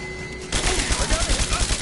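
Rapid automatic gunfire in Rise of the Tomb Raider bursts in suddenly and continues as a loud, dense stream of shots with a throbbing rhythm.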